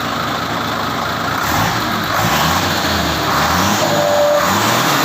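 A car engine fitted with a big turbocharger kit and a freshly routed 3.5-inch exhaust runs loud and close, its deep rumble rising in a few revs over a steady idle.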